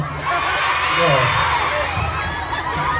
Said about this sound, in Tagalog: malakas talaga ang sigawan ng mga tao dito